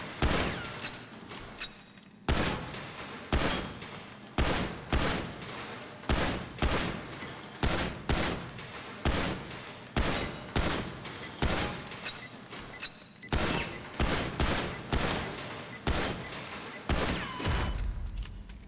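Rapid volleys of gunfire at shooting targets in GTA Online, a steady run of sharp, punchy shots in quick bursts with brief pauses, fairly close and dominating, with no voices.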